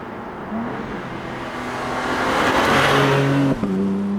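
A 2025 BMW M4 Competition xDrive Convertible is driven and accelerates, its engine rising steadily in pitch and loudness, with a brief dip like a gear change near the end, heard from inside with no voices.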